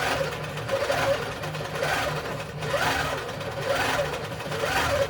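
A computer-guided longarm quilting machine stitching a quilt, its needle running in a fast, steady mechanical hum with a regular pulsing rhythm, close and moderately quiet.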